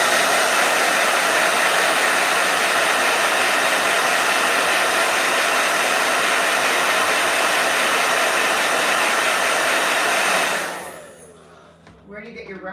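A hair blow dryer running loud and steady with an even whooshing roar for about ten seconds, then cutting off abruptly near the end.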